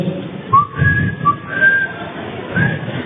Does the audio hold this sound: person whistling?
yes